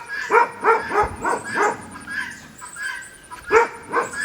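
A dog on a homestead gives a string of sharp, close barks in an uneven rhythm. Softer whimpering yips fill the gaps, and one louder bark lands near the end. No one talks.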